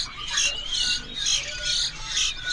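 Oriental magpie-robin (kacer) calling in repeated bright, high whistled phrases, fairly close, with a steady rhythm of song bursts over a quiet background.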